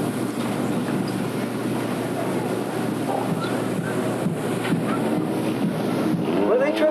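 Wind blows steadily across the microphone at an outdoor Christmas parade, a continuous rumbling, gusting roar that covers the whole stretch and swells slightly near the end.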